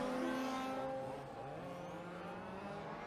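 Large-scale RC race cars run down the front straight during a national final, a faint, high whining engine note that fades slightly as the cars pass by and move off.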